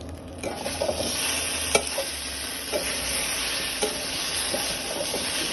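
Prawn and yam curry with coriander powder stirred in a hot pan: a dense frying hiss under repeated scraping strokes of a spoon, close by, with no voices.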